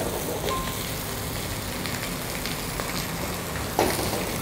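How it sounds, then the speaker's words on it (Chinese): Yellow croaker pan-frying in oil after being turned over, a soft, steady sizzle throughout with a couple of faint clatters from the pan. "好，我们把它翻面翻面过来煎。"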